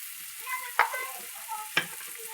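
Ginger garlic paste frying in oil for a mutton dish, a soft close sizzle broken by two sharp stirring scrapes, no voices.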